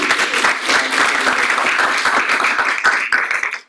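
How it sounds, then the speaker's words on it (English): Audience applause fills a lecture room at Columbia Business School as a chef is welcomed: dense, steady clapping from many hands, close and loud, tapering off near the end. "let's give him a round of applause"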